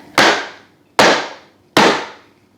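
Three sharp, evenly spaced bangs as a cake tin filled with vegan lemon cake batter is knocked down on a counter, each hit loud and close with a quick decaying ring, and no talking.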